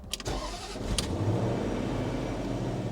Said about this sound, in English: Okay, we'll start it.